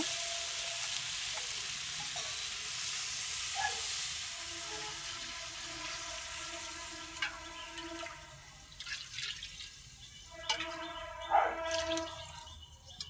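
Potato curry sautéing in a pan sizzles steadily at a low level, with occasional clinks and scrapes of stirring and faint background noises toward the end.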